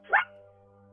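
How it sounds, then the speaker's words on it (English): A single short bark from a dog nearby, sharp and fairly loud, fading into a quiet room hum. "That's Boom Boom barking"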